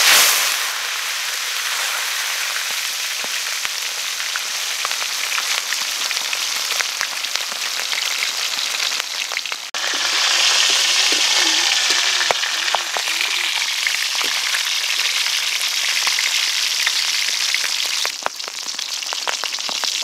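Steady crackling sizzle of pork belly frying in hot oil, loud and close, continuous throughout with a brief dip midway before the hiss swells again.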